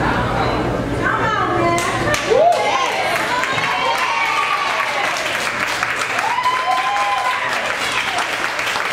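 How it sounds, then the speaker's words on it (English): A crowd claps and cheers steadily, with excited voices and shouts rising over the applause, close and lively. "Everyone up there, round of applause for opening my class"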